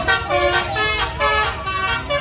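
A bus's multi-trumpet Basuri air horn, fitted with a DAV module, blares loud and close in a wavering, melodic toot that rises and falls in pitch over about two seconds.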